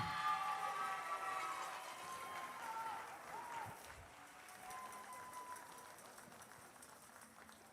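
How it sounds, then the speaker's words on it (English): An audience claps and cheers at a girls' robotics competition in Bloomfield, a sustained wash of applause that is loudest at the start and gradually thins out. "Another round of applause for Brooke, everybody."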